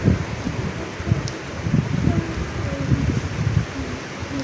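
Steady rain falls on a rainy midday as a continuous broadband hiss with a soft rumbling low patter, with faint voices murmuring underneath.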